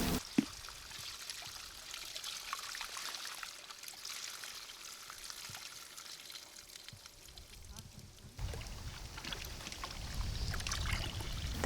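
Water pours and trickles through a fine 0.3 mm mesh sieve while an archaeological soil sample is floated and washed, a steady close splashing that grows louder and fuller toward the end.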